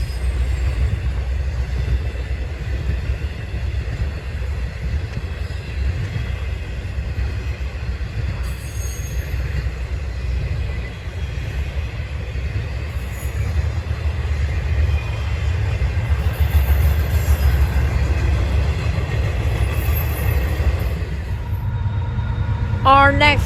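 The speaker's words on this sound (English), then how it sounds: "NS westbound train 21Q, which comes out of Rutherford, Pennsylvania, and terminates in 63rd Street Yard in Chicago, Illinois" A Norfolk Southern westbound intermodal freight carrying container stacks and trailers rumbles past close by at Berea, with a heavy continuous roar of wheels and cars and faint squeals near the end.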